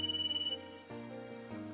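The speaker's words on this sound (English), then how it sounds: "a phone echoed around us" A phone rings in the Kitty Love video game with a clear electronic ringtone, a tonal melodic pattern that shifts pitch in steps over a couple of seconds, fairly quiet and heard alone without talk.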